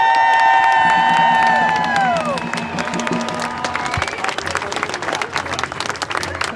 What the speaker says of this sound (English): let's give a big round of applause to Portland City Councilmember Angelita Murillo